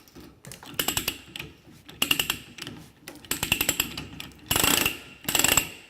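A ratcheting die cuts a thread onto LCS pipe in short bursts of clicking, scraping strokes, each a second or so apart, close by and fairly loud, ending in two harsher grinding passes.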